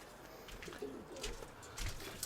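Pigeons coo softly in a dovecote, low murmuring calls mixed with faint shuffling and rustling, quiet and close.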